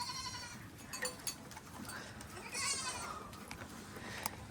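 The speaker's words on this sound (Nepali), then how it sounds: "ल बाख्रा आइपुग्यो घरमा" Goats bleat as they come home to a rural Nepali yard, several quiet, fairly distant calls scattered over a soft background hiss.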